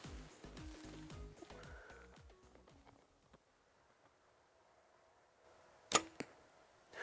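A 2022 Mathews V3X compound bow is drawn and fired, giving a single sharp release snap followed by a quick, faint thud of the arrow, in a quiet setting.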